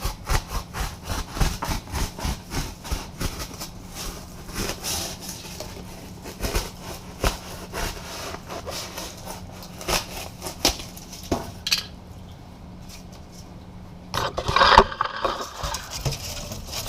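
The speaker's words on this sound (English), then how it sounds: "I'm just gonna cut it. Video the cutting" Hand-sawing a piece of material for an enclosure build: a steady run of rhythmic saw strokes, close and moderately loud, with a brief pause and a louder scrape near the end.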